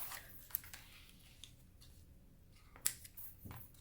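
Scissors cut paper for a discbound Christmas planner, a few quiet close snips and rustles with sharp clicks near the start and middle.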